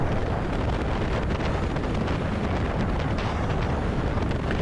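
A 2020 Indian FTR 1200 motorcycle accelerates on a roll-on while riding, its engine roar blended into heavy steady wind rush across the microphone, continuous and loud with no talk.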